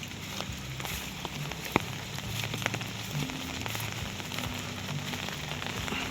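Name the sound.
rain falling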